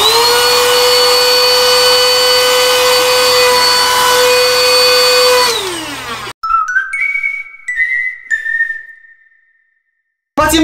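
A household vacuum cleaner runs loud and steady with a high whine, then winds down and stops, followed by a few short whistle-like tones.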